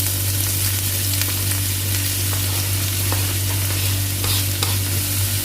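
Chopped onion and garlic fry in a pan with a loud, continuous sizzle and crackle, heard up close with occasional stirring scrapes and a steady low hum underneath.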